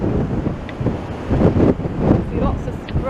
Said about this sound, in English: See lots of spray there.